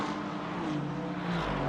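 A Le Mans Ultimate race car at Bahrain in the rain: a close, continuous engine drone whose pitch climbs and shifts through the gears, with no talk over it.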